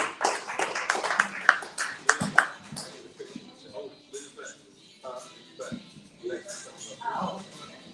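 A small audience claps for guests Dee Alexander, Jada Mosley and Coach Jamar Mosley at a sports show, a few seconds of scattered, fairly close handclaps that thin out, with talk continuing over and after.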